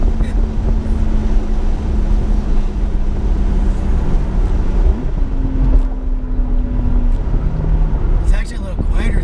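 A 2018 Porsche 991 Targa 4 GTS with factory exhaust pulls hard from inside the cabin, a steady engine drone rising in pitch, dropping briefly at a gearchange near the middle, then climbing again.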